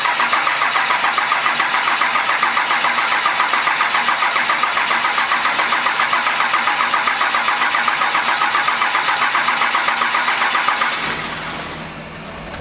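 A 12-valve Cummins diesel engine cranking with a fast, even rhythmic chugging for about eleven seconds, loud and close, before the starter stops and the sound drops to a lower uneven murmur.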